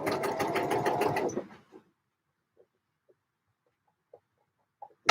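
A sewing machine stitches a Vogue 8947 dress near the waist seam, running fast and steady for about a second and a half, then stops, leaving near silence with a few faint clicks.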